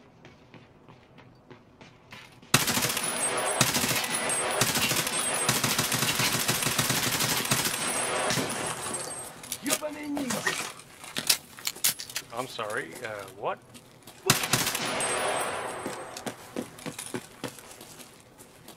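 Gunfire and rattling metallic mechanisms in the video game Escape from Tarkov, loud dense bursts with clicks and clatter, while a player talks briefly over the action.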